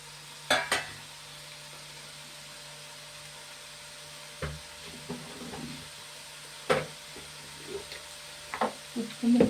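Vegetable pieces cook in masala in a pan with a faint background hiss, broken by a few distinct scrapes and knocks of a spoon stirring at irregular intervals.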